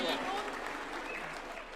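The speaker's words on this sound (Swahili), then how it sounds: "A round of applause for Leader of Majority Makofi." A crowd applauds a Leader of Majority at a live national address in Kenya, a steady wash of clapping that holds for the whole stretch and tapers slightly, with a voice faintly mixed in.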